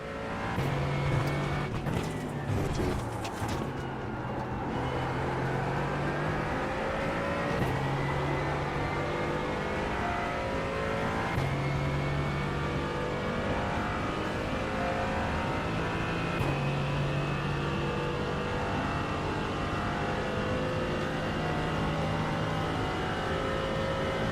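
A Porsche race car engine in the iRacing sim, likely the GT3R or Porsche Cup 992, drones steadily and loudly throughout, with rising gear pulls, brief shift blips and clattering bumps early on.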